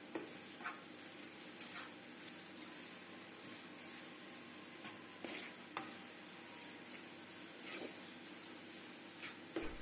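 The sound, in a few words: stirring and frying spices with sausage and potatoes in pan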